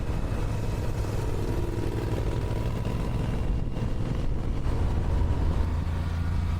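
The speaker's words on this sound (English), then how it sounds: "Riding a motorcycle through Black Canyon of the Gunnison National Park is a thrilling experience" Motorcycle riding through Black Canyon of the Gunnison National Park in Colorado, along the South Rim and East Portal Road: a steady, close engine drone with wind rush holding evenly throughout, no voices.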